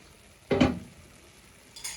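Oil hits a hot tagine with a short, sharp sizzle burst that fades quickly, followed by a faint second crackle near the end.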